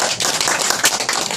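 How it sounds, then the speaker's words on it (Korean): Applause at a board meeting, a short burst of steady hand clapping from a group, loud and close. "마지막 박수"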